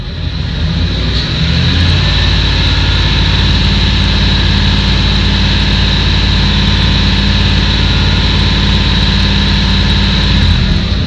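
A van engine runs close by with a steady, droning roar that holds throughout, no voices over it.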